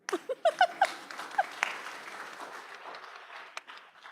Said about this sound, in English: You can clap for yourselves.